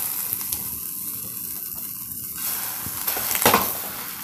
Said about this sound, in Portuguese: Esquentar o pão aqui.